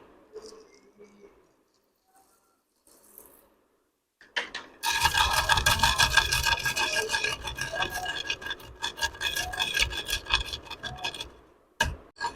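Whole spices for Amritsari masala vadi are rubbed and ground by hand with garam masala. A close, continuous dry rasping and scraping starts about a third of the way in and carries on with brief pauses; a faint voice is heard earlier.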